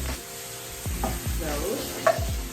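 Plant-based taco filling sizzles in a pan while being stirred, a brief close run of soft scraping strokes and low knocks over a gentle frying hiss.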